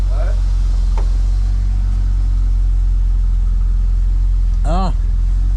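A drift car's engine runs at a steady, loud, low idle nearby, and a short rev rises and falls near the end while people talk over it.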